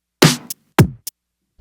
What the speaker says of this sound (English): They make one fat kick and snare.